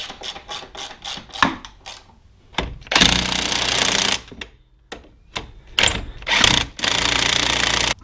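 An impact gun drives the outer strut assembly bolt nuts tight on a Pontiac Grand Am, firing in short rattling bursts that lengthen into sustained loud hammering runs, close up with no talking.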